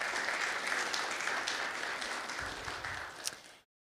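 Audience applause at a guide dog graduation ceremony: a dense, even wash of clapping heard from a distance, steady throughout and then cutting off abruptly.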